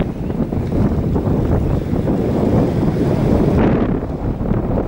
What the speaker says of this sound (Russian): Ветер поднимается